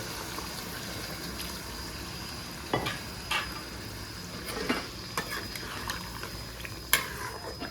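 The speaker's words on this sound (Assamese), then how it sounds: "এতিয়া মই ইয়াত গৰম পানী দি দিছোঁ গৰম পানী অকণমান দি দিছোঁ মাংসখিনি সিজাবলৈ" Hot water poured into a pot of cooking goat meat, a steady low sizzle and bubbling broken by several sharp splashing bursts, close and moderately loud.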